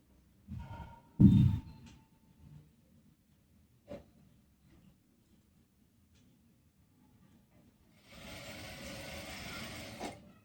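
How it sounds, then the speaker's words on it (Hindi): Domestic sewing machine running a single line of stitching along a palazzo pant panel, short mechanical bursts near the start, then a sustained whirring run near the end, with quiet pauses between and no talk. "अभी एक ही सिलाई लगा रहे हैं, दूसरी बाद में लगाएंगे।"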